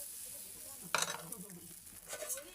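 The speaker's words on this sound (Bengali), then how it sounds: "এরপরে দিয়ে দিচ্ছে ওই ব্যাটারটা, পিঠের ব্যাটারটা।" Rice-flour batter for village-style eskha pitha is poured onto a hot pan, bursting into a loud sizzle at about one second that fades to a softer crackle, with a second sizzling swell near the end.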